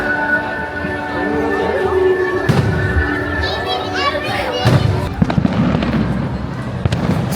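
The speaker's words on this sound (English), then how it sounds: "Fireworks are starting, whoa. Fireworks over there." Fireworks show at Disneyland, with sharp distant bangs and crackling bursts popping irregularly over a murmuring crowd, and people talking nearby throughout.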